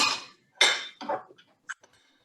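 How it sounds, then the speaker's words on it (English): Ice cubes dropped into a glass for a gin and tonic: a few bright clinks and rattles in quick succession, close and crisp, fading into small tinkles and near silence. "And then I'm going to add a couple ice cubes"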